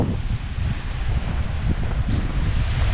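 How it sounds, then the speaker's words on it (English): Wind blowing steadily at a sheltered lakeside inlet used as a dive site in Tobermory, Ontario, a constant low rumbling buffet across the microphone with no talk. "you can still hear the wind"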